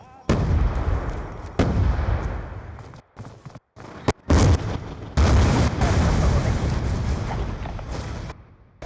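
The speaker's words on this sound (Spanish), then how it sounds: "¡Una granada!" A grenade blast and combat noise in the shooter Black Ops 2, with loud booming explosions and sustained rumbling gunfire filling the scene up close, broken by a few abrupt cuts of silence.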